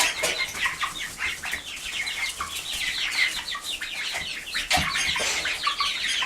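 Chickens in a backyard flock cluck and flap their wings nearby, a busy, continuous scratchy mix of fluttering and clucking with no talk.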